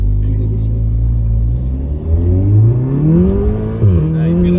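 A Stage 2 tuned VW Golf R launching hard, its engine note climbing steadily in pitch with a brief dip at a gear change, loud and close from inside the car.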